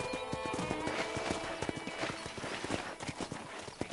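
Horse hooves clip-clop at a steady trotting pace on a ranch in Red Dead Redemption, close and rhythmic, with brief whinnies and faint game ambience around them.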